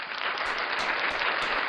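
Hand clapping applause from a small group, a steady dense patter of claps lasting the whole stretch at moderate loudness with no voices over it.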